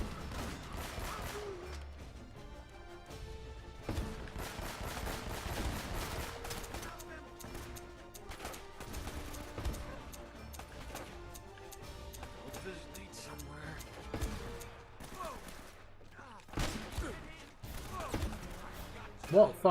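Gunfire from a picked-up weapon in Uncharted: Drake's Fortune, a run of sharp shots and bursts scattered through nearly twenty seconds of busy game action and music, with a player talking over it.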